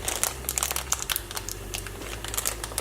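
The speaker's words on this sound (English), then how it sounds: "All these plastic bags." Plastic bags from a HelloFresh meal kit crinkle and rustle up close in quick, irregular bursts, with no voices.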